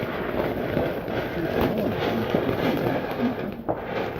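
Fireworks going off outdoors on bonfire night, a dense, continuous crackle and rumble of distant bangs with a few sharper pops, steady and loud throughout.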